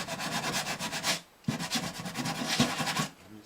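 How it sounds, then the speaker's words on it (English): Sandpaper rubbed over the wood of a Martin D15 acoustic guitar, a close, steady scratchy rasp in continuous strokes with a brief pause partway through. "We just want to smooth that down where that rough sandpaper roughed it up pretty good."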